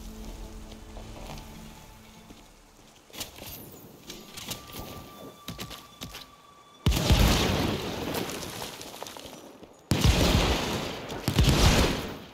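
Explosions in the Evil West video game on PC: after a stretch of crackling combat noise, two heavy, loud blasts erupt a few seconds apart, each roaring and slowly fading.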